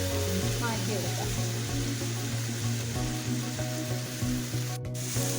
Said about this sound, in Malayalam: അപ്പോൾ ഇതിലേക്ക് മസാല ചേർത്ത് ഒന്ന് നന്നായിട്ടൊന്ന് വഴറ്റിയെടുക്കാം.